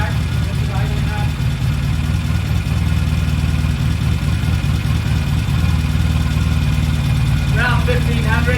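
A carbureted engine idles at about 900 to 1,000 RPM just after its carburetors are balanced on first start, a steady low throbbing hum held close and loud throughout, with brief faint voices near the start and end.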